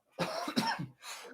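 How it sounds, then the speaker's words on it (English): A single person coughs twice in quick succession, close and fairly quiet, followed by a softer breathy exhale. "I have to cough."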